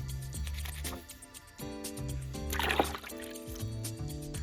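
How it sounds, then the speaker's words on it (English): Waterproof motorcycle helmet accessories dip into a basin of water with sloshing, dripping sounds under a tonal musical background. "Some waterproof ones can be dipped directly into the water then wiped."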